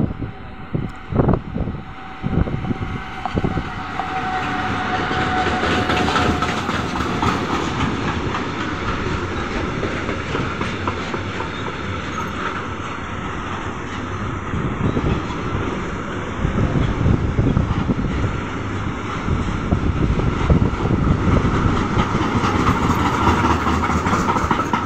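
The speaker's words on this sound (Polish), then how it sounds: "Odjeżdża pociąg" A train departs along the rails at Tarnów, Poland, wheels clacking rhythmically and engine rumbling, loud and close, with a faint whistle-like tone early on.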